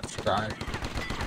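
Rapid automatic gunfire in the War Brokers video game on the Dead End City map, a dense stream of shots running through the whole clip, fairly close and loud, with a voice under it.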